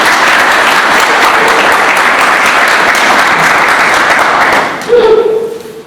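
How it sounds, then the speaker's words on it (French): Loud, sustained audience applause at a political party gathering, dense clapping that fades out at the end as a voice cuts in. "Je tiens à applaudir très fort."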